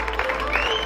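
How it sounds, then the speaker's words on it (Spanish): Brief burst of audience clapping at an outdoor dragon-boat racing event in Santiago del Teide, steady and dense for under a second as an award goes to the organiser. "Un aplauso para José también, se lo merece."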